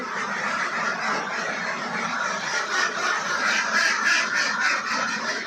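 Domestic ducks being let out of their pen on a duck farm, a dense overlapping chorus of quacking from a flock, continuous and fairly close with no pauses.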